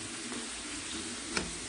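Soy sauce sizzles in a hot pan of tuna sisig with salted egg, a steady broadband frying hiss throughout with one brief louder crackle near the end, close and alone.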